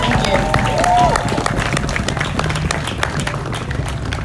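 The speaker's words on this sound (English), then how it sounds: "Give him a round of applause." Applause from a crowd at an outdoor protest against immigration enforcement in San Diego, a loud dense burst of clapping that carries on steadily under background hubbub.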